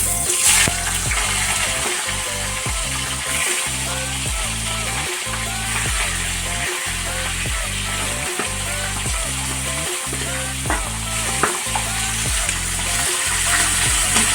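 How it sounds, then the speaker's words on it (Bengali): Steady sizzling and crackling of fish heads frying in hot oil, with a repeating low rhythmic thumping underneath throughout; no voices. "মাছের মাথাগুলো আছে, এগুলোকে সুন্দর করে উল্টে পাল্টে একটু ভেজে নাও"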